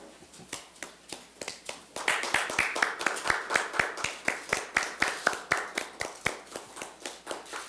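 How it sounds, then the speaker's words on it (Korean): An audience at a Democratic Party recruitment announcement claps to welcome guests, with sharp, rhythmic claps that start sparse, then swell into steady, fairly close clapping with a few cheers. "박수로 맞이해 주시기 바랍니다."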